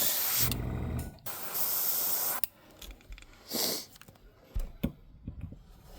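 Short bursts of spray paint hissing from a can onto a fishing crankbait, two longer sprays then a brief one, with faint handling noises between.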